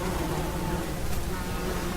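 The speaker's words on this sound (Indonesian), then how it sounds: "sesuatu yang tak biasa kemudian terlihat ketika mendadak ribuan lebah mendekatinya." Thousands of honey bees swarm around a man in Sumatra, a dense, steady buzzing hum filling the scene without pause, close and continuous with no talk.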